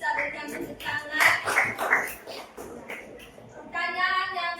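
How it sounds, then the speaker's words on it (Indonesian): Classroom applause rises as a group of students claps together, a burst of overlapping hand claps that swells and fades, with voices murmuring under it and another round of clapping starting near the end. "Kita berikan tepuk tangan."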